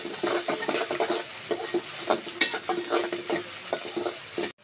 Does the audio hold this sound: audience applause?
no